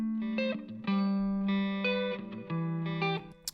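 Electric guitar intro played through a Fender-style amp tone with effects, a sequence of sustained, slightly distorted picked notes and chords over a steady low bass note, clean and close.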